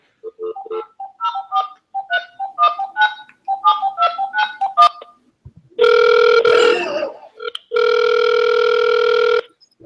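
A telephone rings out on a call back: a string of short chirpy tones at first, then two long steady electronic ringing bursts with a gap between them, loud and close, with no talk over them.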